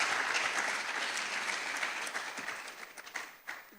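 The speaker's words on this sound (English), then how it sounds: "Can we have a resounding round of applause for our" Audience applause for a speaker at a public forum, a dense crackle of many hands clapping that starts full and gradually thins and fades toward the end, with a few scattered claps left.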